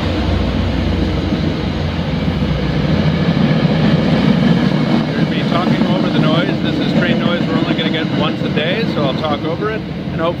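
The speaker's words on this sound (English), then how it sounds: "with an MBTA commuter rail train running by" An MBTA commuter rail train passes close by with a loud continuous rumble and roar, steady across the whole stretch, with squealing tonal screeches from the wheels in the latter half.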